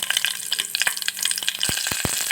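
Green chilies, cumin and curry leaves sizzle in hot oil, with a constant frying crackle punctuated by a few sharp scrapes or taps of a utensil, close and with no voices.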